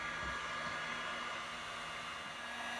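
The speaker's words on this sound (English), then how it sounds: "That is how you weld plastic." Hot air welding gun blowing steadily while repairing a crack in a plastic pool filter lid, a constant close-up whooshing hiss like a hair dryer with no breaks.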